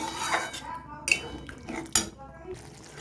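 Metal lid set onto a cooking pot of moong dal and potatoes, giving a few sharp clinks and clatters at close range in a quiet kitchen.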